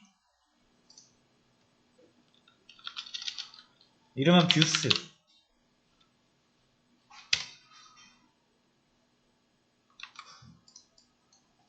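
Computer mouse clicks come in a few quiet, scattered bursts at a desk while a voice talks over them.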